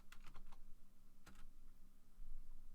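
Light typing on a computer keyboard: a few quick clusters of soft key clicks, faint and close, with a short pause between bursts and no voices.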